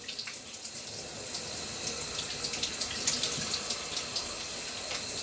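Shower water running steadily, a broad continuous hiss of spray with scattered splashes and drips, close and fairly loud throughout with no voices.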